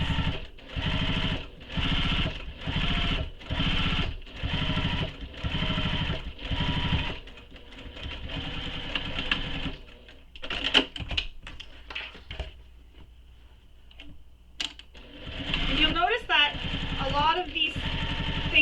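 A sewing machine top stitches a bag in a regular run of about seven even, rapid bursts, then falls quiet; later a voice speaks over faint handling noises.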